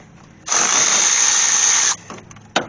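A powered ratchet turns a bolt on a Cadillac CTS cam sensor, letting out one loud, close whirring burst of about a second and a half, then a short blip a moment later.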